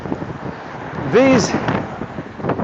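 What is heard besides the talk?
wind blowing into the microphone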